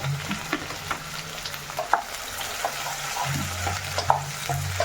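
Sliced onions and okra sizzle in hot oil in a pan for a Kerala theeyal, a steady crackling fry with occasional soft stirring clicks, close and moderately quiet with no voices.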